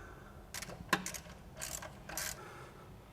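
Ratcheting wrench clicks in short bursts while a lift part is bolted in on a 2019-2025 Honda Passport during a 4.5-inch lift install, close and fairly quiet, with no talk.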